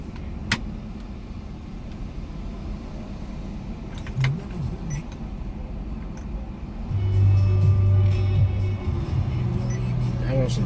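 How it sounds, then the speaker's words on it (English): Road traffic passes nearby as a continuous car rumble, swelling as one vehicle's engine grows louder and holds for a few seconds near the end, with faint voices in the background. "I said, listen to the traffic."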